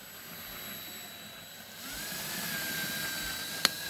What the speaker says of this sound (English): I'm just going to very gently drill out that rivet